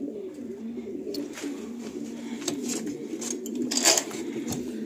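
Kalanka breed pigeons coo in low, repeated throaty murmurs at close range, with faint rustling and small clicks mixed in and no speech.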